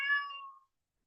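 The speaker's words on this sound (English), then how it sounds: "Sorry, cat's making all kinds of noise." A single short meow from a house cat, close and clear, fading out within about half a second, alone and with no talk.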